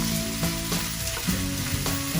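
Salsa is stirred into a stuffed-pepper filling sizzling in a pan, a dense, loud, continuous fry with repeated scraping stirs, close and without voices.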